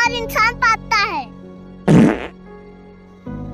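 A loud, wet fart bursts out mid-scene among comedic voices, preceded by several squeaky, cartoonish voice sounds and followed by a short quiet stretch before another sound begins.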